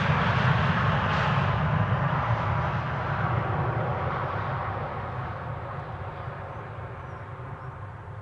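A KLM Embraer airliner comes in to land, its engines making a steady, broad roar that slowly fades and is heard alone without speech.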